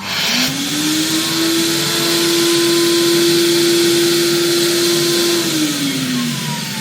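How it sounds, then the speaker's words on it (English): A record cleaning vacuum machine sucks dirty cleaning fluid off a vinyl record, giving a loud, steady motor whine with a rushing airflow hiss that rises at the start, holds, then winds down near the end. "now we're going to vacuum off the dirty water"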